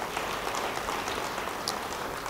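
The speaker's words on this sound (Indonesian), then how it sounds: "Yang percaya, beri tepuk tangan bagi dia." Audience applause in a church during a sermon, a steady dense wash of clapping heard from across the room, fairly faint and even throughout with no talking over it.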